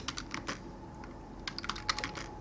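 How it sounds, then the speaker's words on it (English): Quick bursts of keystrokes on a computer keyboard while searching on eBay, close and fairly quiet, with irregular clusters of taps over a low background hum and no talking. "I'm just going to type in"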